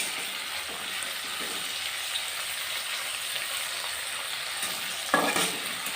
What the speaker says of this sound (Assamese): এতিয়া 2খন কেৰাহীতে পিঁয়াজ দি দিলোঁ